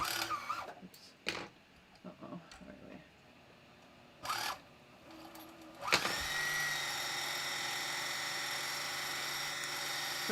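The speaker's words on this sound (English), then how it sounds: "So let me just wind a quick bobbin here." A home sewing machine winding a bobbin for a bathrobe project: a steady, close mechanical whir starts about six seconds in and runs continuously after a few scattered handling clicks and knocks.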